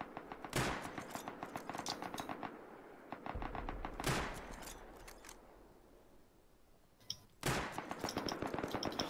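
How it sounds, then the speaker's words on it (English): Rapid automatic gunfire rattles in the survival video game Rust. Bursts of closely spaced shots come loud and near, with a brief lull in the middle before the shooting resumes. "Shooting at me."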